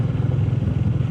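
Motorcycle engine recorded on a wireless mic while riding, a steady low rumbling drone with a rough texture, loud and close, mixed with wind buffeting.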